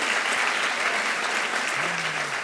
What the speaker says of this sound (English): Please give them a warm round of applause.